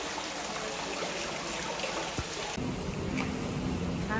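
Water gushes from a large pipe at the Kurobe dam on Japan's Tateyama Kurobe Alpine Route, making a steady, dense roar with no let-up.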